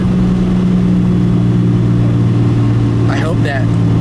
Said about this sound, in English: Literally hit the exhaust brake.